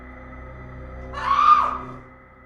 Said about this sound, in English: Then, a blood-curdling scream shattered the silence.